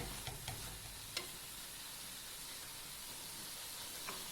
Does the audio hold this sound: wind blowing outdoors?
no